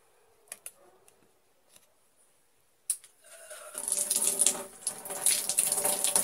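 Cold tap water runs into a sink to wet an old toothbrush during household cleaning, starting after a few faint clicks and handling noises, then a steady rushing stream that holds to the end.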